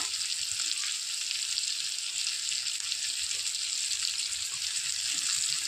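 Small mixed fish such as morla and katki, seasoned with chili powder and turmeric, sizzle steadily in a hot pan, a continuous close bright crackle of frying oil with no pauses.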